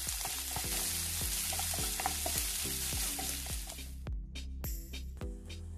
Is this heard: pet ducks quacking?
no